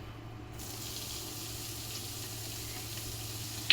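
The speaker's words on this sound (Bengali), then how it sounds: "এখন আমি এই বেগুন ভাজা তেলের ভিতর এই মরিচ পেঁয়াজ দিয়ে ভেজে নিব" Chili and onion frying in the oil left over from frying eggplant: a faint, steady sizzle and hiss with no talking.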